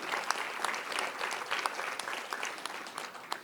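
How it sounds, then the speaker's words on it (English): Warm applause at a school board meeting honoring a student whose lamb sold at a livestock show, with a room of hands clapping steadily at moderate volume for several seconds. "Give her a big round of applause."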